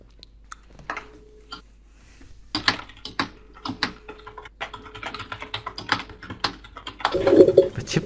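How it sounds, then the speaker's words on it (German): Loud computer keyboard typing, irregular clusters of sharp clicks and key presses close to the microphone, sparse at first then denser, with a brief soft bird-like coo near the end. "Wir tippen bei euch so laut rum jetzt"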